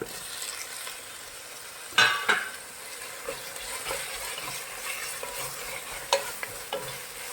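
Tomatoes are stirred and sautéed in a pan with ginger-garlic paste for prawn biryani, a quiet sizzle broken by a few sharp spatula clinks and scrapes.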